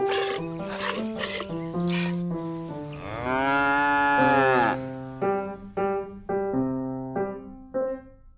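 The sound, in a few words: cow mooing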